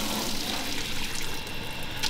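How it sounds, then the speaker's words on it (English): Water runs steadily from a traditional shower in a camper van after a recirculating shower is switched off, a continuous close hiss and splatter with no talking. "You're going to turn off the Infinity Shower, and then the traditional shower is going to turn back on."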